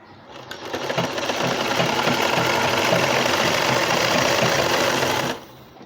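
A sewing machine stitches a folded hem on fabric for a newborn baby's jhabla dress. It spins up after a quiet start, runs as a close, loud, steady whir, then stops abruptly near the end.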